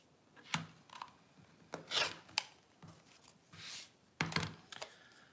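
Quilt fabric being trimmed of its excess, heard as a handful of short, close rasping cuts and rubs spaced irregularly, with quiet pauses between them and no talking.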